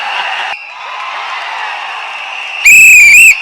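At a crowded political meeting, a long, shrill whistle rings out loudly near the end over a steady hum of crowd noise.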